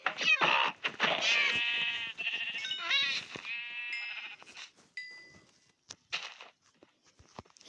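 Several Minecraft sheep bleats in quick succession, loud and close, followed by scattered clicks and soft footstep-like taps as the bleating fades.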